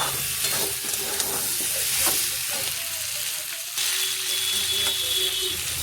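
Cauliflower sautéing in a hot pan for a vegetable curry, a steady close sizzle with scraping stirs and occasional clinks of the spoon, some faint background speech underneath.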